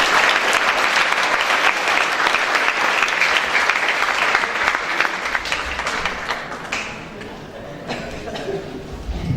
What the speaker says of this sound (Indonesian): Saya minta semua orang tepuk tangan yang keras buat Bali Devanta Institute